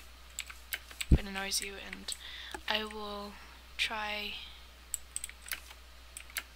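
A clicky computer keyboard is typed on in short bursts of sharp, close key clicks while someone plays Minecraft, with a voice talking over the tapping.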